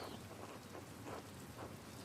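Steady rain and rolling thunder in the video game Pentiment, a continuous wash of falling rain with low rumbles swelling and fading, heard alone at moderate level.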